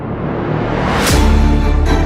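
A dense, loud cinematic impact: swelling noise with a whooshing sweep that lands in a deep booming hit, sustained rumble continuing afterward.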